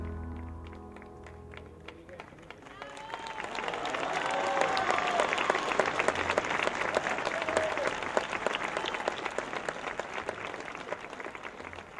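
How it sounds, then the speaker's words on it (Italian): Applause and cheering from an audience at a fashion show in Porto San Giorgio after a breakdancer's performance. It swells from a quiet start into sustained clapping, with faint whistles and voices mixed in. "Un grande applauso, Anthony!"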